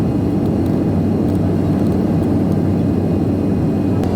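Steady, loud broadband roar of a Thai Airways airliner's engines heard from inside the passenger cabin during climb, a constant low rumble with no talk.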